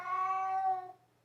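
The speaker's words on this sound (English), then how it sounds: "That's our cat, Mojo, if you're new to our channel" A domestic cat gives a single clear meow of about one second, close to the listener, fading off at the end in an otherwise quiet room.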